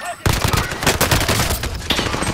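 Dense automatic gunfire and rapid shots ring out in a Call of Duty: Modern Warfare multiplayer firefight, loud and continuous from start to finish.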